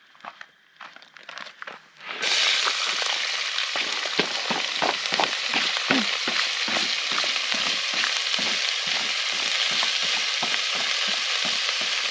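Onions hit a hot pan alongside sausages for curried snags and burst into a loud, steady sizzle with repeated stirring scrapes and crackles, heard up close with no talking.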